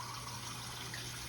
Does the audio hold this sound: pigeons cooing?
no